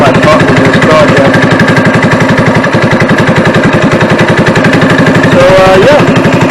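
A Honda XR80R motorcycle with a swapped-in 196cc engine runs close by, a loud, rapid, steady thumping exhaust pulse throughout, with a couple of brief revs near the end.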